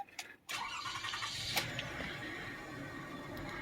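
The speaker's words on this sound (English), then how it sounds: "Now should be able to start the engine and check for workmanship." Engine of a 2004-2006 Toyota Sienna minivan starting after an oil and filter change, a short crank catching at about half a second and settling into a steady, fairly loud idle that runs on alone.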